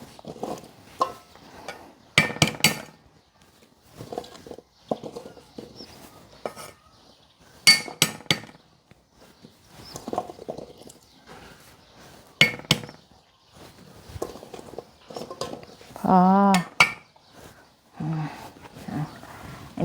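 Ingredients for a curry being pounded by hand, heard as sharp irregular knocks and clinks in loose clusters with pauses between, fairly close, with brief speech and other noises now and then.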